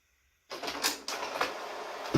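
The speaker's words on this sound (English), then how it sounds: "it's coming to the printer within the next 5 seconds" An HP DeskJet 1112 inkjet printer starts up after a quiet moment, giving off soft mechanical whirring and shuffling with a couple of sharper clicks and bursts, steady and close.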